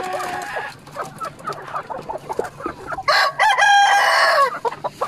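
Chickens cluck in a farmyard before a rooster lets out a loud, long crow close by. Other fowl keep clucking faintly underneath.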